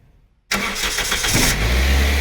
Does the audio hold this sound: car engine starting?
yes